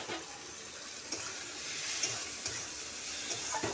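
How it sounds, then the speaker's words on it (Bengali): Ghugni mixture seasoned with salt fries in a pan, giving a soft, steady sizzle with a few faint scrapes of stirring, quiet and continuous. "ভাজা ভাজা করছি।"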